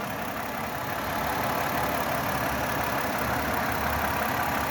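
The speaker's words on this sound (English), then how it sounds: "Okay, with the motor running." A 2011 Ford Escape engine idles steadily at close range, a constant broadband hum with a faint knocking texture running evenly through the whole stretch and no voices over it.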